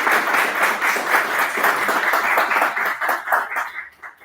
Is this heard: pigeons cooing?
no